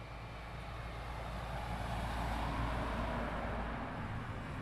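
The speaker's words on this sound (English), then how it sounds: "He's now taxiing to parking." A jet taxiing to parking at East Midlands Airport at night, a low, steady engine rumble with a broad whine that swells slightly midway, heard from a distance, with no talking.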